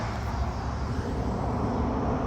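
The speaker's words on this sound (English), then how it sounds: "There's an airplane going over." An airplane flies overhead as a steady, broad rumble that holds evenly through the whole stretch, with no voices.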